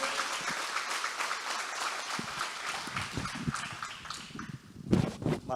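A church congregation claps during a sermon, a busy wash of many hands at moderate distance with some louder individual claps standing out near the end; some rustling and voices mix in.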